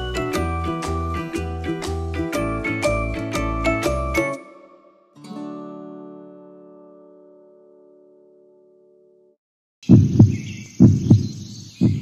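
A steady run of deep, thumping heartbeat pulses, then a lingering synthetic chime that fades out before a burst of louder sound returns.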